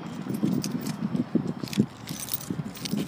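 Car keys for a 2015 Mazda3 GS jangling at a dealership, faint scattered metallic clinks and rustles in a quiet setting.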